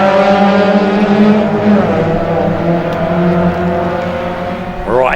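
VW race cars restart a race together, engines roaring loudly and steadily close by, with rising revs from several cars overlapping and a sharp acceleration sweep near the end.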